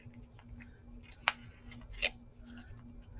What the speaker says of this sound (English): I may have to just take my little knife in here and cut this off like this.